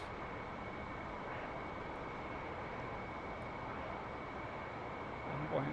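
Steady cockpit roar of an F-14's twin jet engines at idle throttle during a flight in the DCS World simulator, a constant broadband rush with a faint whine, unbroken and even, with no talking.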